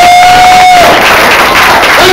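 Audience at a comedy show applauding and cheering loudly, dense continuous clapping and shouts close and full, with a brief tone fading out at the start.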